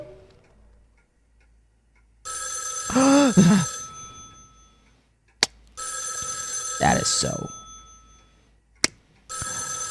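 A telephone rings in the horror game Spirit Hunter: NG, sounding as two long, loud bursts of ringing that stop abruptly, with someone speaking briefly between them.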